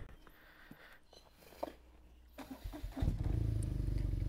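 BMW R nineT motorcycle engine on a test ride, starting quiet and then rising into a loud, steady, close engine roar over the last second and a half.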